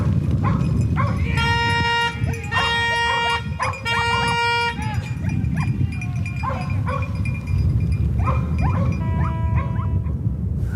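A small hunting dog barks repeatedly while chasing a wild boar through woodland in the Aisne, with bursts of quick barks over steady loud background rumble and distant voices.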